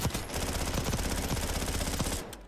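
A rapid, continuous burst of automatic fire from an MP40-style submachine gun in a Warzone firing range, loud and close, rattling for about two seconds before stopping abruptly.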